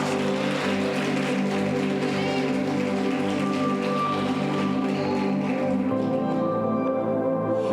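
A church congregation claps steadily in worship, the dense patter of many hands continuous and moderately loud, blended with music in the room.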